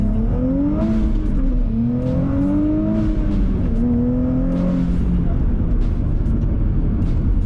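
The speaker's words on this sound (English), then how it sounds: "Let's see what it's like with some spirited driving, shall we?" New Nissan Z sports car with an aftermarket UniClutch clutch, driven hard on the road, its engine note rising through the revs in several pulls with shifts between them, loud and steady from inside the cabin.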